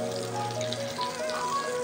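Long brinjal slices, rubbed with salt, turmeric and sugar, fry in oil with a steady, close sizzle and faint crackling throughout, no voices.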